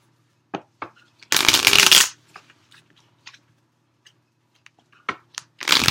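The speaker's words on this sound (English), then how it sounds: "And one more shuffle for Taurus, please." A deck of tarot cards is riffled and shuffled in two quick, crisp bursts near the microphone, with light taps and card clicks scattered between them and no speech.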